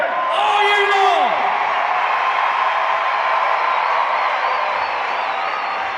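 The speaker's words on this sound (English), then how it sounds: "you were the loudest crowd we've heard all year long" A massive stadium crowd of about 45,000 baseball fans at Citizens Bank Park in Philadelphia roars and cheers loudly and continuously, a dense sustained wall of noise with whoops rising from the mass of voices.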